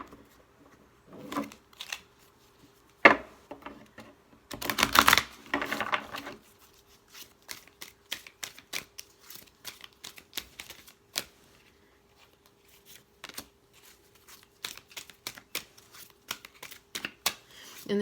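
Sacred Earth Oracle cards being shuffled and handled up close: soft riffles, a dense flurry of card flicks, then many quick light taps and slides at a low level.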